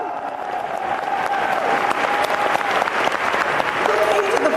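Crowd at a political conference breaks into loud, sustained applause with cheers and scattered whoops, the clapping building steadily while voices call out over it.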